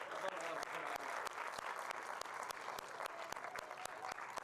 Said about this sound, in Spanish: Un aplauso más para Javier.